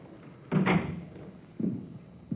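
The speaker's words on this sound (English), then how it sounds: "Close the door." A door shuts with a solid thump, followed about a second later by a softer second knock, both close by against a quiet room.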